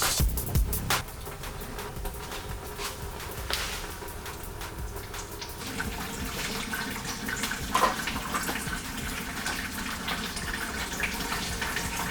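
Fluid drains from the engine drain plug of a Chevy S10 with its stock 4.3, pouring in a steady continuous stream for the whole stretch with no talking.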